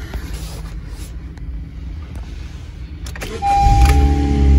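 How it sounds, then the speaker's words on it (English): A car sits quiet with faint background hum until its engine starts about three quarters of the way in, jumping to a louder, rumbling idle with a steady tone. "As you can see, the car turns on, no light."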